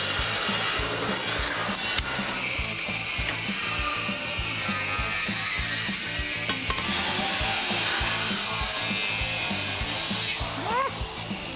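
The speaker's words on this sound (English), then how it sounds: "we'll cut it at 15 and kind of do a little miter cut on this one so the edges match" A power saw makes a shallow miter cut at fifteen degrees while building a truck bumper in a shop, a steady close buzzing grind running for the whole stretch with a rhythmic low chatter beneath it.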